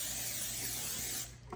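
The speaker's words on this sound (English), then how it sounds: "Now I'm gonna spray the forms." Cooking spray hisses steadily from a can into cake forms, one continuous close spray lasting about a second before it cuts off.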